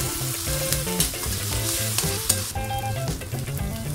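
Cabbage curry with ground garlic and ginger paste fries in a pan, a steady close sizzle under repeated scraping stirs of a spoon in a rhythmic pattern, with no talking.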